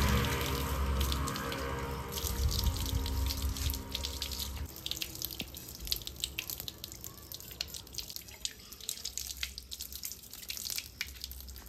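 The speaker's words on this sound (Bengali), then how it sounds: "এবারে জল দিয়ে মুখটা ধুয়ে নেব।" A tap runs steadily into a sink while someone rinses their face with water after a homemade face pack. The quiet, constant splashing and trickling comes from close by and carries on with no talk.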